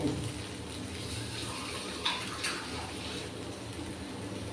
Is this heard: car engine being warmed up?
no